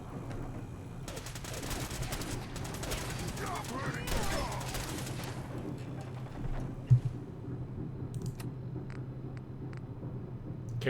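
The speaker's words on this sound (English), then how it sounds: "there's definitely some fireworks going on somewhere outside" Fireworks go off somewhere outside as a rapid, crackling flurry of pops for several seconds, then thin out to a few scattered distant bangs over a low steady background.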